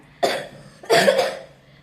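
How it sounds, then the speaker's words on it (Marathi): Two distinct coughs, close and loud, the second heavier and longer, separated by a short quiet pause. "आणि खोकला पण येतोय"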